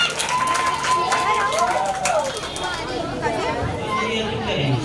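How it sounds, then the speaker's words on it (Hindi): An audience at an Ambedkar Jayanti celebration claps and chatters, a busy wash of hands and voices with a few louder cheering bursts, continuous across the moment. "आप लोग जोरदार तालियां बजा दीजिएगा"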